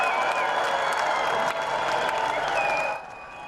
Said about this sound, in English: Hundreds waving flags, brandishing signs, and cheering for the returning veterans